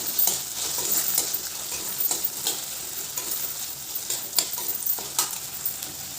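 Tomato and onion fry in a pan with a steady, close crackling sizzle, broken by several sharper scraping stirs across the six seconds.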